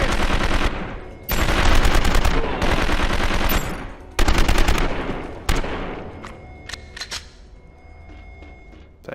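Gunfire from a shotgun-armed enemy in the action game 24: The Game: several loud, dense bursts of shots crash out in quick succession, then give way to a few isolated, sharper cracks and quieter clatter.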